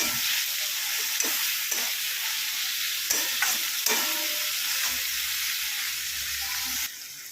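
Chopped tomatoes frying in masala for a mutton curry, a steady close sizzle with scattered stirring scrapes and clicks that drops off slightly near the end.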